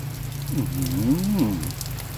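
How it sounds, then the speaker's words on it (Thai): Rain falls outdoors in the evening while young basil leaves are picked in a Thai garden. It is a soft, steady patter of raindrops, heard alone and close to the listener. "ฝน ตกพอเย็นๆเลย เอาใบอ่อนๆนี่ครับ มาลุยเก็บกลางสายฝนเลยครับ"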